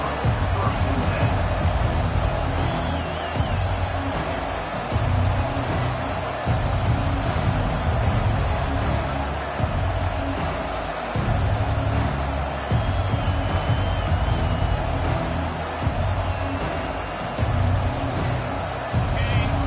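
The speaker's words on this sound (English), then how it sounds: "This crowd trying to make life miserable for this offense." Dense, steady roar of a stadium crowd at a college football game between Tulane and the Iowa Hawkeyes, loud and continuous throughout with babble and scattered shouts, while a commentator talks over it.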